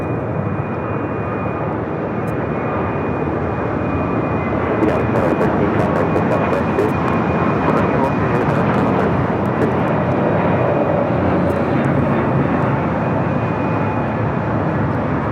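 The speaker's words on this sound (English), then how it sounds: "United A321 in Neo taking off." A United Airbus A321neo takes off at LAX, its engines a loud, steady broadband roar that swells slightly and holds throughout, sounding close and continuous.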